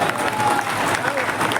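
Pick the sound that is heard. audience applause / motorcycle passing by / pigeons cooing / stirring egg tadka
audience applause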